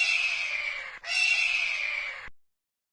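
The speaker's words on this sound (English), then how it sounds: "Eagle." Cartoon-style eagle call for a children's bird-name lesson, a loud, harsh screeching cry in two sustained bursts with a brief break between, then cutting off to silence.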